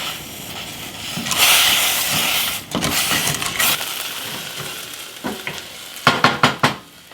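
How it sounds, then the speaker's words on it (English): Onions sautéing in a hot pan give a steady, close sizzle and hiss, with stirring scrapes and a few sharper clatters of the utensil toward the end. "We're going to saute that until the onions start to brown a little bit around the edges"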